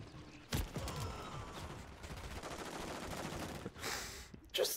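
Gunfire in Call of Duty Modern Warfare III: a sharp shot, then a long stretch of rapid automatic fire at moderate level, then more bursts and a final loud crack, with no talk over it.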